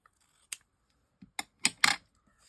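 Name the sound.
scissors cutting adhesive paper strip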